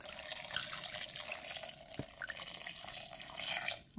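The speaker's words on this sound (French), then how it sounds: "Et là, je vais rajouter de l'eau." Water from a tap runs steadily into a pot of fish soup simmering with onions and tomato, a soft continuous splashing pour with a short clunk midway, fairly quiet and without talk.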